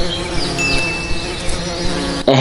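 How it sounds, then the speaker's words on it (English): Bees swarm around a hive during a honey harvest, a dense, steady buzz filling the air close by with shifting wingbeat tones, ending in a brief louder rustle. "The buzzing of bees can be really frightening, and you can't just ignore it."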